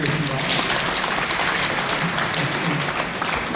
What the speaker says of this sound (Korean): 큰 박수로 하답을 해주시기 바랍니다